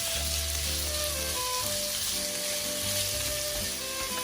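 Chicken pieces for pineapple chicken sauté in a hot pan, giving a steady, even sizzle that runs unbroken throughout, with faint tonal kitchen sounds layered under it and no talking.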